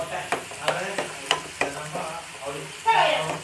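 Garam masala is stirred into fish masala frying in a pan, with a rhythmic series of scraping utensil strokes over a low sizzle, ending in a brighter burst of frying.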